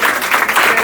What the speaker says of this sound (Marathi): सो एकदा टाळ्या पराग सरांचं